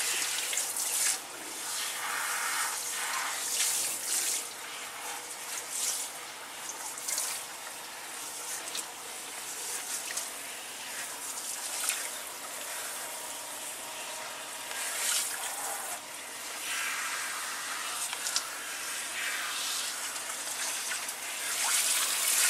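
Running water splashes and drips unevenly while a shampoo bar is rinsed out of hair, a close, fluctuating wet hiss with occasional louder gushes.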